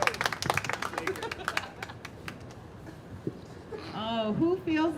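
At a live standup comedy show on an NYC rooftop, a few sharp, scattered claps ring out in the opening seconds, thinning quickly before a voice begins speaking over light background noise.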